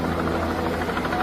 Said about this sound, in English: Air support via helicopters remains vital for checking on isolated villages